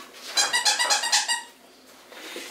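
Squeaky plush bear dog toy being squeezed, a quick run of about six or seven close, loud, high squeaks in a burst, then quiet.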